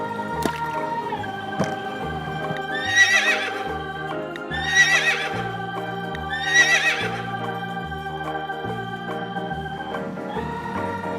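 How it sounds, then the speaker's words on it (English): A horse whinnies three times at even intervals, each neigh a bright, shaky call rising over a soft musical backing, with no one speaking. "very fantastic horse."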